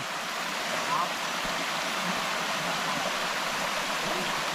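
Water flows steadily out through a drain pipe from a dammed pool in an orchid garden, a constant moderate rushing wash with no distinct breaks.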